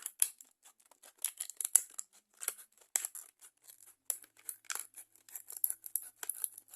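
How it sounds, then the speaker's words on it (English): Close, crisp snipping of scissors cutting open a thin plastic sticker pack in quick irregular bursts, with faint crinkling between cuts. "these are hard, so I'm gonna use scissors"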